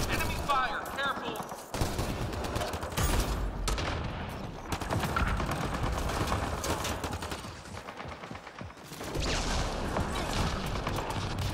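Enemy gunfire in a Mass Effect Andromeda multiplayer fight crackles in sustained volleys and scattered shots, fairly loud and busy throughout, with bits of voice mixed into the chaos.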